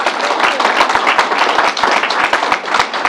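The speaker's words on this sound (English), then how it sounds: "Let's give Fanny a round of applause." At a New York coronavirus press briefing, a roomful of people claps in an even, sustained round of applause, with individual hand claps audible throughout.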